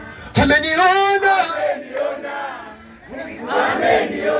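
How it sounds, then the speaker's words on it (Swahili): A church congregation cheering, a loud, high, wavering ululation rising sharply and holding for about a second, followed by mixed crowd shouts and a second swell of voices near the end. "Ongeza makofi na vigelegele kwa Yesu"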